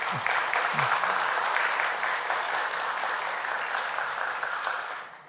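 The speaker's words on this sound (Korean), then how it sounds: "큰 박수로 환영해 주시기 바랍니다" Church congregation claps in welcome for a returning choir conductor during a Sunday worship service, a full steady wash of applause from many people that gradually tapers off at the end, with a brief voice near the start.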